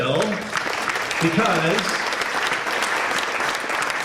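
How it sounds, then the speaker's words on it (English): Audience applause for an event organizer at a National Park Service photography workshop, a steady crowd clapping that runs through the whole stretch, with a voice speaking over the start. "a big round of applause for Bill"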